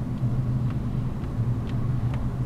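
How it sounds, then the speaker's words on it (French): Low, steady engine rumble from a manual-transmission car under acceleration, droning continuously for a few seconds with slight surges and no speech. "Je lâche l'accélérateur, je débraye, je mets la 5, je relève l'embrayage et je réaccélère."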